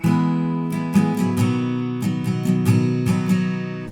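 Acoustic guitar strummed in a steady down-up pattern, chords ringing full and close with crisp regular strokes, no voices; the chords of a song.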